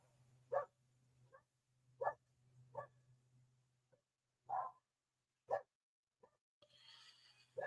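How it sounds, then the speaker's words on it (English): Dogs bark faintly in the distance, about seven short, separate yaps and woofs spread out irregularly over a quiet, low steady hum. "These dogs"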